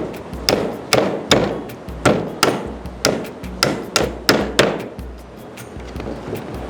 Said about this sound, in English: hammering out the nails from the pallet and they're pretty big suckers